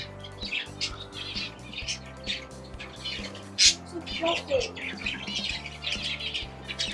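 A young blue budgie kept as a pet, giving scattered chirps and squawks over a steady background hum, with some short sharp calls standing out.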